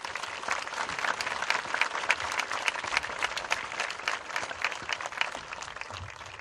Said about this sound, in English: I'd like to have a round of applause for all those individuals now